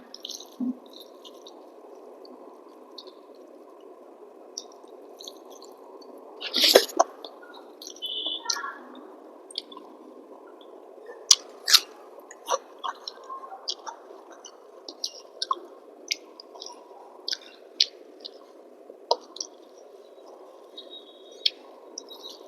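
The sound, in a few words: mixing rice with curry by hand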